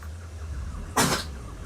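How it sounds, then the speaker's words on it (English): A single short, sharp cough from a small buddy, heard alone above low background hum. "That's quite the cough."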